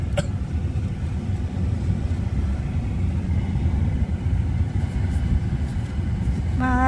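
Steady traffic on a busy road, vehicles passing in a continuous low rumble that stays loud throughout, with a brief higher tonal sound near the end.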